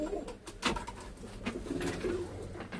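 A Turkish tumbler pigeon coos softly nearby in a few low, rolling calls, with faint rustling and background noise around it.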